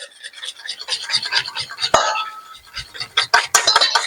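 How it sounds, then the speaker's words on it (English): A whisk or spoon scraping round a bowl while lemon juice is stirred into avgolemono chicken soup, with quick rhythmic rasping strokes and a couple of sharp clinks against the side. "start adding the lemon juice a little bit at a time and constantly mix"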